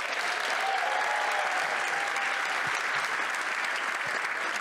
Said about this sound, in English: let's have another hand for Vanessa Rice and her friends, shall we?